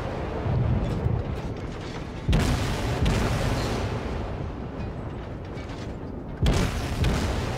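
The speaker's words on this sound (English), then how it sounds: "So I got armor piercing loaded, so I go ahead and fire the armor piercing," Naval guns firing armor-piercing shells in World of Warships from a German tier 1 ship, heavy booming blasts at intervals over a constant rumbling engine and sea roar.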